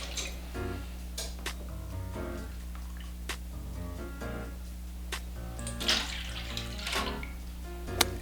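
Two cups of milk poured into a bowl for a Southern mac and cheese custard, a soft steady liquid trickle with faint clinks, quiet and close with no talk.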